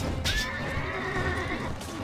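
A horse neighs in the medieval combat video game Mount & Blade Warband, one close, loud whinny with a rising then wavering pitch over a brief battle clatter.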